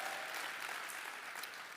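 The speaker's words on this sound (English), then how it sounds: "You can clap." A live podcast audience claps in a steady, even patter of many hands, fairly quiet and unbroken for a couple of seconds.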